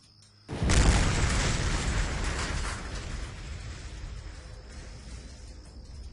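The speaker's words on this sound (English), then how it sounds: "As the explosive charge detonates the IED, we can see that the IED smoke effect is generated as well by the script." An IED set off by an explosive charge in the ARMA 3 military game erupts in a single loud, sudden blast, then a long rumbling roar that slowly fades.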